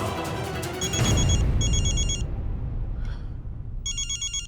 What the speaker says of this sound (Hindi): अनमोल का ही फोन है, ले लो।